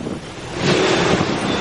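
Strong typhoon wind from Typhoon Quinta in Tacloban, Leyte, roars across the microphone as a dense, steady rush of noise that swells louder partway through and stays heavy.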